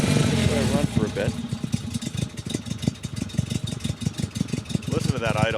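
A 1968 Porsche 912 engine idling at a concours event, a steady low rhythmic putter heard close, while people talk over it much of the time.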